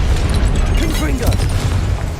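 A Confringo fire spell bursts in Hogwarts Legacy, a loud, dense explosive roar with crackling pops that fills the whole moment, close and continuous, with game sounds layered underneath.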